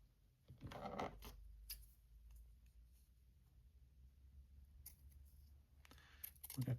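Scissors snipping felt for gnome shoes, a couple of close crisp cuts early, then quiet handling rustles and another cluster of snips at the end.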